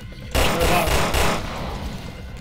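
Pistol gunfire in the video game Resident Evil Revelations 2, aimed at growths on a creature: a loud burst of close shots opens the moment and then fades into a ringing tail.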